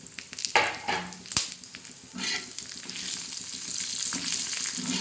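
Cumin seeds and chillies crackle and sizzle in a hot pan, close and continuous, with a couple of sharp knocks early on as the spices go in.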